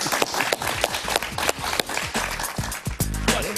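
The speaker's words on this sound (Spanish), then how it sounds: "un aplauso para él" A studio audience on a Spanish-language television talk show applauds a guest, with sharp, close claps running over a low musical bed for a few seconds.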